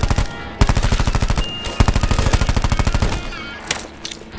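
Rapid automatic gunfire from a weapon in Call of Duty Black Ops 4 Zombies, loud sustained bursts of evenly spaced shots with a short pause, then scattered game effects trailing off.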